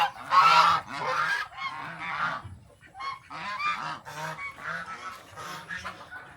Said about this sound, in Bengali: এই রাজহাঁসগুলোও সেই গরু ছাগলের মতোই ঘাস টাস খেয়ে ঘরে ঢুকলো